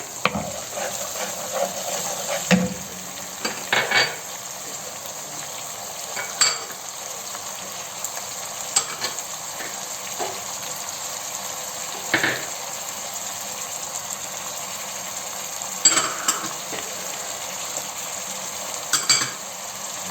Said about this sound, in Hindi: यहाँ पे भी हम गोल्डन फ्राई करेंगे प्याज को